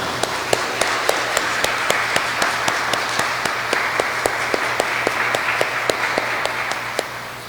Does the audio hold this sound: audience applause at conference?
yes